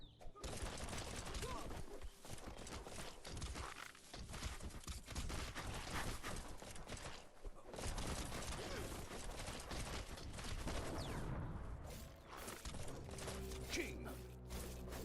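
Dense, continuous gunfire in a video game, rapid bursts running almost the whole time with clicking mechanical rattles, loud and close, with a voice occasionally talking over it.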